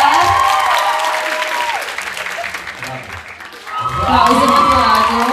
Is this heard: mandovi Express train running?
no